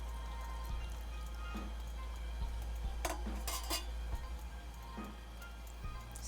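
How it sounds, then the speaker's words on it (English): A spoon stirring a thick pot of pasta e ceci, with soft scrapes and knocks against the pot over a low steady simmering hiss, quiet and close. "Stir that in."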